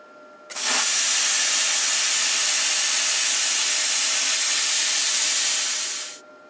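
YESWELDER CUT 55DS plasma cutter on 120 V slicing quarter-inch flat stock, a loud steady roaring hiss that starts abruptly, holds for about five and a half seconds, then cuts off.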